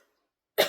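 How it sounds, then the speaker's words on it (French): A woman gives a single short, sharp cough, loud and close, after a brief silence. "Je tousse encore, c'est pas grave."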